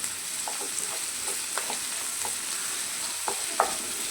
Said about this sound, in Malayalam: അതിട്ട് കൊടുത്ത് അതിലേക്ക് ഒരു സ്പൂൺ ഇട്ട് കൊടുത്ത് നന്നായി വഴറ്റി കൊടുക്കുക